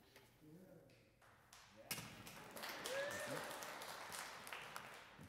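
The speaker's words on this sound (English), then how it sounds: "middle-aged man gets applause" Applause breaks out in a church hall after a man rides a scooter across the floor during a children's segment, building from a thump into sustained clapping with voices mixed in.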